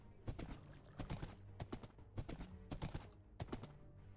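Horse hooves in the Minecraft video game clip-clop in quick irregular bursts of two to four hollow knocks, spaced across the moment at moderate volume with no talking.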